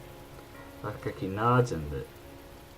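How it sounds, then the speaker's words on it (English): Steady soft rain from The Fruit of Grisaia video game patters continuously beneath a calm narrating voice, staying low and even for the whole stretch. "The rain shows no sign of letting up."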